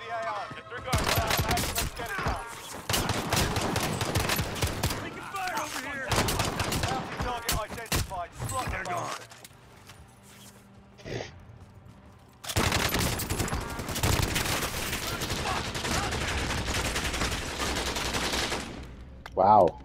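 Rapid bursts of submachine gun fire in a video game shooter, sharp close rattling volleys with a quiet gap in the middle before another sustained burst; a voice talks between shots.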